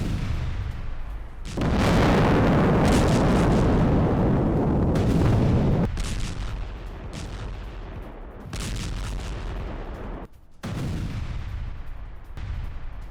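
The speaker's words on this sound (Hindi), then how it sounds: "टैंक के साथ यूक्रेनी आर्टिलरी ने किया अटैक" Ukrainian artillery striking a Russian tank convoy: a dense roar of heavy booms and blasts rolling continuously, loud and sustained, with short gaps and renewed bursts, no speech over it.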